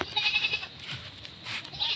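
Native goats bleating in a dim pen on a farm, several overlapping calls at close range, loud and repeated across the moment with no talking.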